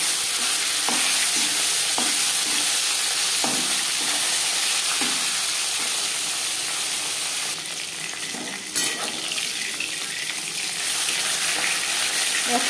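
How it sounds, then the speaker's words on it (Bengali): Tilapia pieces rubbed with salt and turmeric frying in hot refined oil, a dense steady sizzle and crackle lasting throughout, close and loud, with a brief louder burst of spattering near the end. "5 চামচ রিফাইন্ড অয়েল গরম করে নিয়েছি। এবার দিয়ে দেবো লবণ হলুদ মেখে রাখা মাছ।"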